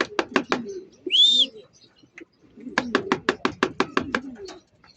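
Racing pigeons arrive at the loft and coo in rapid, rhythmic pulses close by, with one brief high whistle-like chirp between two bursts of cooing.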